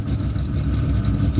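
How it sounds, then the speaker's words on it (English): A car engine runs rough while firing on only four cylinders, a steady low close-up rumble with a slightly uneven churn and no talking. "it ain't good because it's only firing on 4 cylinders like that"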